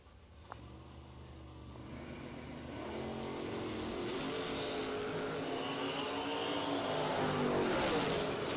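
Drag racing cars, including a Firebird Roadster, roaring down the strip: engine noise builds from a lower idle into a loud, sustained rising roar as the cars accelerate away, with no talk.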